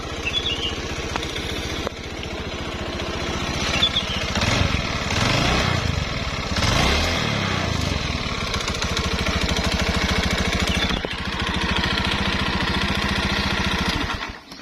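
A Honda Beat fuel-injected scooter engine showing fault code 52 runs steadily up close, a rough continuous drone that swells briefly midway before settling back to an even idle.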